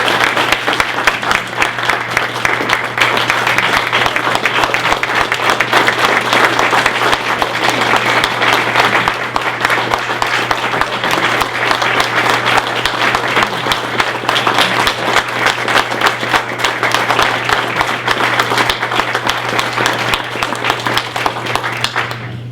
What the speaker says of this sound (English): Thank you all for that applause.